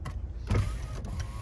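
Power windows on a 2013 Nissan Altima SV, a short electric motor whir with a couple of soft mechanical thumps inside the car cabin, close and moderately quiet.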